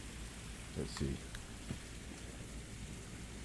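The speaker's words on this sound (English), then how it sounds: "Okay, so it's raining outside." Rain falling outside on a Saturday night, a faint steady hiss of rainfall behind the room, with a few brief knocks and a person speaking briefly over it.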